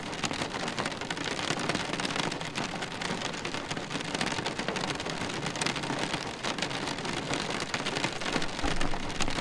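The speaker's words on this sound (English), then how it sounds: "Can't turn it up because the rain is just vicious." Heavy rain drums hard and constantly on a surface, a dense, loud, unbroken roar close by with no voices heard over it.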